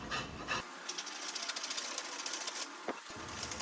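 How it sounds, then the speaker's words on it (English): A wooden octagon blank spinning on a wood lathe is roughed into a round spindle with a roughing gouge, giving a steady, close, rapid chattering rattle of the tool against the corners, broken briefly by a couple of knocks. "using my roughing gouge, I'm turning this octagon into a spindle"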